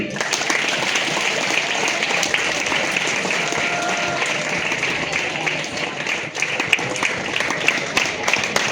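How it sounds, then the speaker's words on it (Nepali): A crowd at a school farewell program in Doti claps in sustained, dense applause that holds steady throughout at a fairly loud, close level. "ताली बजा"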